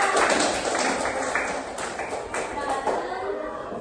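Classroom applause for a student, a steady wash of many hands clapping together at moderate loudness, continuing throughout with a few sharper claps standing out.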